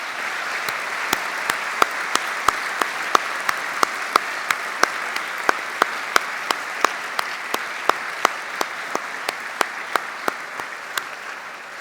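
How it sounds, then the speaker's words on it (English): Steady applause from a seated audience at a university graduation ceremony, a sustained even wash of many hands clapping with occasional sharper nearby claps standing out, no talking over it. "graduates, please join me in a round of applause for the Swinburne staff."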